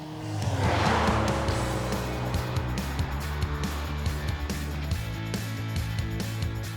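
A 2019 Jeep Compass with a 2.4-liter four-cylinder engine drives on the road, a steady engine drone and road noise heard from inside the cabin, swelling briefly near the start before settling into an even hum.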